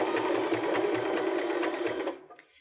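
A Baby Lock BL9 sewing machine stitches a zigzag in a fast, even mechanical chatter close by, running steadily for about two seconds before winding down to a stop.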